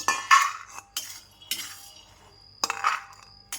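A metal spoon scrapes and clinks against a pan while scooping out freshly roasted peanuts, several separate bursts of scraping with short pauses between them, close and fairly loud.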